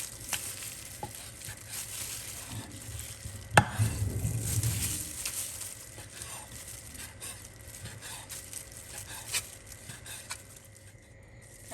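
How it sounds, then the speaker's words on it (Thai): Raw chicken is chopped into pieces with a knife, repeated strikes on a cutting board, a steady chopping rhythm close by with a sharp louder thwack partway through. "จากนั้นเราก็จะมาหั่นไก่ค่ะ"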